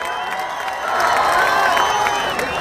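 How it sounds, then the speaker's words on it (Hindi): A crowd at a village gathering claps and cheers loudly in welcome, a dense burst of applause that swells after the first second and holds steady. "जोरदार तालियों से इनका भी इस्तकबाल करिए"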